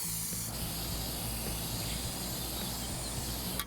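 Rust-proofing paint being sprayed onto a door, a steady, continuous hiss at close range that carries evenly throughout, with a faint click near the start, and no talking.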